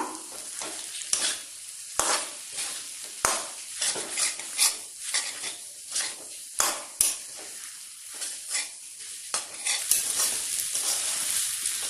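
Egg chowmein noodles fry with chili and tomato sauce in a pan, a continuous sizzle broken by repeated scraping strokes and sharp clinks of a spatula against the metal, close and busy, without any voice.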